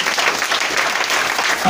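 Audience applause fills a Christmas church service in Bregbo, Bingerville, a dense steady clapping sustained loud and close throughout.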